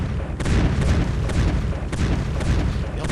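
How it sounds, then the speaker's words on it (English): Naval bombardment in the World War I strategy game To End All Wars: a dense, continuous rumble of booming artillery fire with repeated heavy impacts layered over one another, loud and sustained throughout. "naval bombardment"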